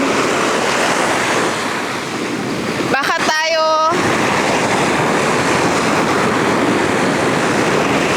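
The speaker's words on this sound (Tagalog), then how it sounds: "Very nakakatakot ang alon." Ocean waves surge in a continuous loud wash on a beach in Zambales, Philippines, with a brief burst of a voice speaking Tagalog partway through.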